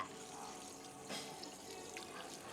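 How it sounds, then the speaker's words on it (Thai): Tap water splashes over hands being washed at a sink, a soft continuous spatter with a few brief louder splashes. "แต่ตอนนี้น้ำกระเด็นกระดอนมาก"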